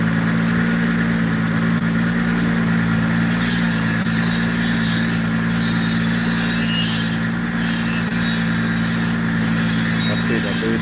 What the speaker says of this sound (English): Sounds so good on the dyno.